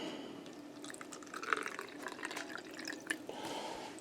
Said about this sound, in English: Now we'll pour some warm water in here.